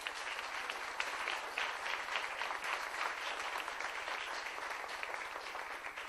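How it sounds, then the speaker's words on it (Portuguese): A church congregation gives a round of applause during a sermon, a quiet, distant-sounding wash of many hands clapping at an even level for about six seconds, alone without speech. "Dar uma salva de palmas para esse senhor."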